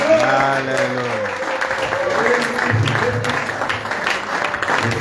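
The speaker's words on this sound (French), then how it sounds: "Est-ce qu'on peut acclamer très fort le Seigneur?" A church congregation applauding and cheering for God, sustained clapping from a crowd that begins under a voice and continues steadily on its own.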